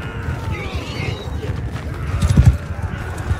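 Horse hooves clip-clopping in Mount & Blade II: Bannerlord, a close, busy patter of hoofbeats with a louder thump near the end amid battle din.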